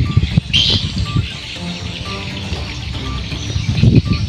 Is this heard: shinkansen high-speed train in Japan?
no